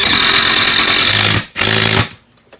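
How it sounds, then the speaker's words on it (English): A power drill bores a pilot hole into a wooden stud, whirring steadily for over a second, pausing briefly, then running again before stopping, close up and loud. "I'm going to run my first pre-drill hole. Run that in."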